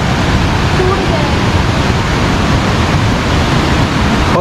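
A flooded river rushing through Old Manali, a loud, unbroken roar of churning water that fills the whole clip, close and steady with no pauses.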